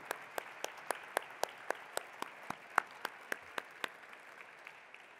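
Faint, rhythmic clapping for veterans at an awards ceremony, a steady run of distinct hand claps at a brisk even pace over several seconds, with a low background hush.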